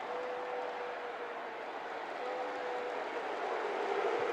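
Football crowd at a Leicester City versus Huddersfield match reacting unhappily, a broad, steady roar of massed voices in a stadium, sustained and fairly distant, swelling slightly toward the end.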